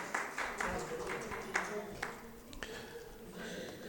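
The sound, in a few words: audience applause for poet at a poetry recital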